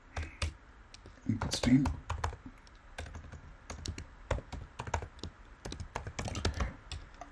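Computer keyboard typing, close and crisp, with irregular clusters of quick key taps and occasional pauses, while someone talks briefly over it.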